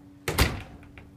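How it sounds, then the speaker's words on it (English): A door being lifted and pushed open where it rubs, fitted with a Stanley door closer: a single dull wooden thunk with a short scrape, followed by two faint knocks, close by and with no talk. "if I take the door and push up"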